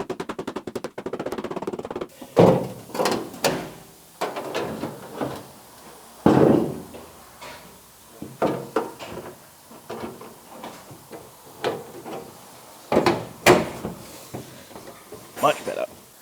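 Sharp metallic hammer blows strike sheet metal on a BMW E30 M3 ute build, coming in irregular bursts of knocks and bangs close by, with people talking between them in a workshop.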